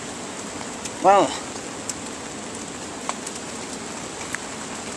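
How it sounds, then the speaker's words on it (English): Heavy rain pours down steadily during Hurricane Sandy, a dense continuous hiss filling the whole stretch, with a single short spoken word rising briefly above it. "This rain is just terribly coming down."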